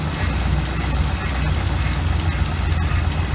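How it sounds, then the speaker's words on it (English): A 1986 GMC small block 400 V8 fitted with an Edelbrock carburetor idles a little rough, a steady low rumble held continuously and close by with no talking over it. "It's idling a little rough."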